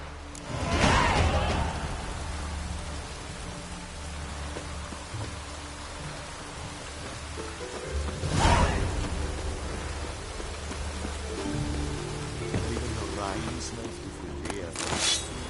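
Rain falls in The Witcher video game as a continuous hiss, swelling into two louder, brief bursts along the way.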